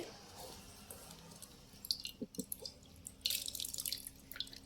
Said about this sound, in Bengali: দেখছেন কত জল বেরাচ্ছে